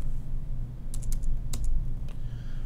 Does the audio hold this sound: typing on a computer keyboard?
yes